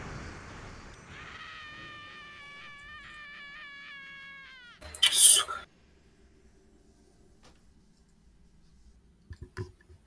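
A cat meows in a repeated, sliding series of cries inside an online role-playing game raid, followed by a sharp burst of game noise and a few faint clicks near the end.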